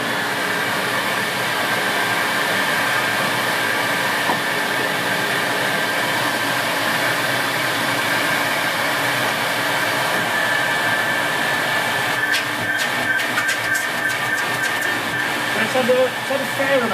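A vintage Electrolux vacuum cleaner running at full power with the hose fitted, a steady loud whining drone held throughout, with some rattling and clicking toward the end.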